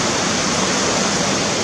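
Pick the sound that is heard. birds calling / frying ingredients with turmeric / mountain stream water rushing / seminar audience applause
mountain stream water rushing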